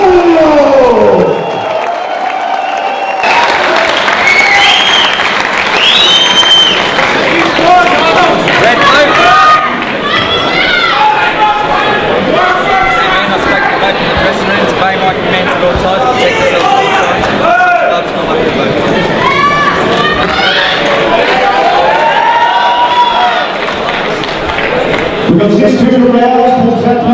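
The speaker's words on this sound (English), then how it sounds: "The crowd's all cheering and ready to go because we've got a big support group here for Mr. Adam Hollier." A boxing crowd cheers and applauds steadily at a fight night, a loud, continuous roar of voices and clapping with an announcer talking over it throughout.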